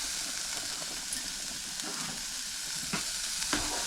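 Ingredients sauté in a pan with sambar powder being added, a steady close sizzle with occasional stirring scrapes and no talk.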